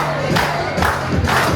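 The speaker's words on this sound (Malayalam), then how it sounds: "ഒരു റെസ്റ്റോറൻറ്റിലെ സ്റ്റാഫിൻ്റെ ഭാഗത്തുനിന്ന് ഒരു ബർത്ത്ഡേ സെലിബ്രേഷന് ഇജാതി കയ്യടി കാണുന്നത് ഞാൻ ആദ്യമായിട്ടാണ്" Restaurant staff at a Barbeque Nation buffet in Thrissur clap and cheer together for a birthday celebration, a loud group roar that comes in three swelling bursts, close and boisterous.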